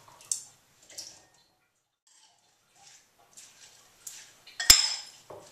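Greens being mixed into salad dressing in a bowl for a sweet potato salad: scattered soft wet squishes and light clinks from a utensil, with one sharp knock near the end, close and otherwise quiet.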